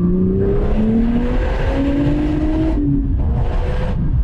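A 1996 Porsche 911 Turbo accelerates hard along a straightaway, the engine note climbing steadily through a gear, a brief dip at the shift, then rising again, loud and close from inside the car.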